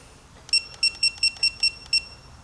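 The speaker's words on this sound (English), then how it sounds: "Now I am going to torque the oil pan bolts" A torque wrench on oil pan bolts during an LS engine swap into a 1960 Chevy Biscayne gives a series of seven short, sharp electronic beeps in steady rhythm, close and clear over quiet room noise.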